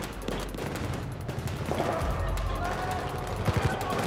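Automatic rifle fire rattles in rapid bursts during a Battlefield 4 firefight in Singapore, dense and loud, with someone talking over the shooting.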